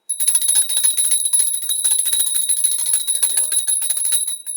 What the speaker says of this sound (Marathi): तिसरी बिल मान्यवरांच्या हस्ते आम्ही वाजवतो